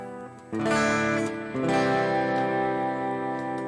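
Clean electric guitar tone from a stock Harley Benton Fusion 3 played through a Valeton GP-200 modelling a Vox-style amp: two strummed chords ringing out with sustained harmonics, close and loud, no talking.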